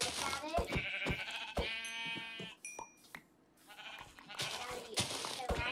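Sheep bleating in the Minecraft video game, several short bleats in the first half mixed with close-up talking and game sounds.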